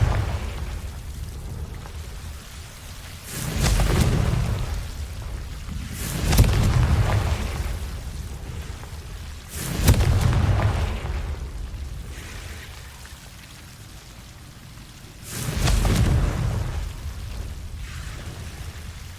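Confringo spell explosions in the wizarding video game Hogwarts Legacy, with four deep, rumbling booms spaced a few seconds apart, each swelling and fading over a low ambient hum.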